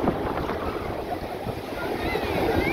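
Sea waves surge and wash continuously at Bakkhali beach in West Bengal. A broad rushing roar is mixed with wind buffeting the microphone and steady surf noise.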